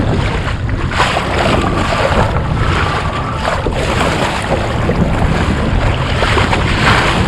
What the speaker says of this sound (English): these swells are getting bigger and more frequent